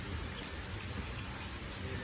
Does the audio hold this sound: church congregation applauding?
no